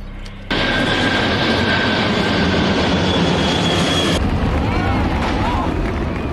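A plane passing overhead in the film Higher Learning, a loud steady broadband roar that swells in abruptly and holds for several seconds, with a fainter whining tone and other movie sound layered over it.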